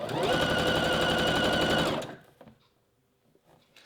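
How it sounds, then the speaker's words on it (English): A sewing machine stitches elastic onto fabric, running steadily at close range for about two seconds with a fast, even rattling rhythm, then stopping, followed by faint handling sounds. "so I've sewn a couple of stitches and then just apply a small amount of tension onto the elastic"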